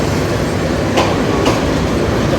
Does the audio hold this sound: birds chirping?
no